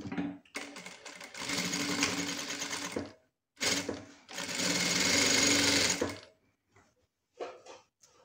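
A sewing machine stitches along the edges of a curtain in two loud, fast, rhythmic bursts of about two to three seconds each, separated by a short pause, followed by a few faint clicks at close range.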